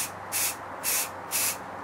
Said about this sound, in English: I prime, as you see, on top of a box, because I have better angle and I can spray easily.